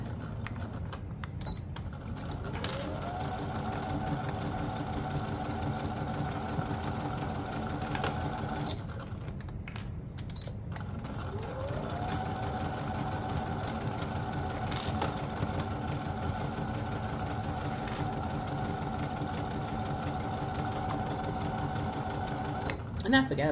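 A sewing machine hums and stitches steadily at a moderate, even pace, pausing briefly midway before running again, close by with faint background sounds.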